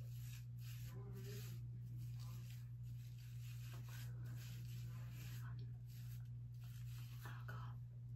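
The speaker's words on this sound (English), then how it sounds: "Now I rub it all around my face." Skincare product rubbed around the face with the hands during a daytime routine: a soft, steady rubbing texture, close and low-level, over a constant electrical hum with faint vocal sounds.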